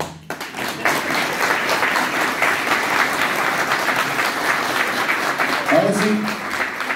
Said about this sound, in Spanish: Bueno, aplaudí.